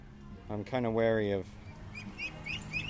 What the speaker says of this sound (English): Those ducks are chirping more like little Tweety birds.